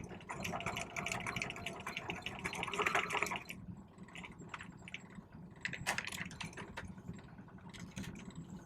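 Sewing machine stitching fabric, a rapid mechanical chatter of the needle running continuously for a few seconds, then stopping into quieter clicks and handling sounds as the presser foot is lifted and the fabric pivoted.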